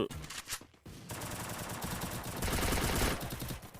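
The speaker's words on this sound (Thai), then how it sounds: "แล้วมีคนยิงกันข้างหน้า ยิงเข้าไปไม่ได้ล็อก เขายิงเขาไม่สนผม ผมก็ยิงไปก็น็อก" Gunfire in the mobile battle royale game Free Fire, dense rapid bursts of automatic shots close and loud, with a brief gap early on before sustained firing.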